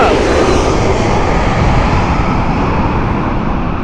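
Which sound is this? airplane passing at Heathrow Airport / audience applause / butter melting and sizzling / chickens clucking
airplane passing at Heathrow Airport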